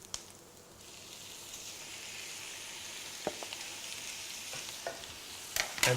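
Minced meat sizzling steadily in a pan with softened onions while a utensil stirs and scrapes it, producing a few sharp clicks and taps over the constant frying hiss.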